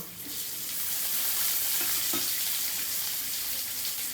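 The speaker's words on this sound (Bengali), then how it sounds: "আদা রসুনের কাঁচা গন্ধটা যাওয়া পর্যন্ত আমার ভেজে নেওয়া হয়ে গেছে এর মধ্যে আমি টমেটো কুচি দিয়ে দেব" Ginger, garlic and chopped tomato fry in a pan with a loud, steady hiss and sizzle, a couple of soft stirring knocks showing through, and no voices.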